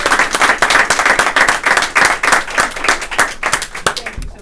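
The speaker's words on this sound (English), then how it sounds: "let's do one more round of applause for the Secretary and the Clinton Foundation" A room of people at a recovery center event with Hillary Clinton breaks into steady applause, dense rapid clapping close and fairly loud, tapering off near the end.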